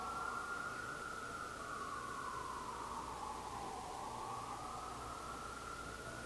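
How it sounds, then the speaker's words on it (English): A faint siren wails in the distance, its single tone slowly falling and rising again over a steady hiss of background noise. "Always a siren when I'm filming."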